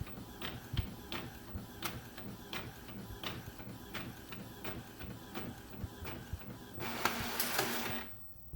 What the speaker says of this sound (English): And here it is printing, taking its sweet dandy time.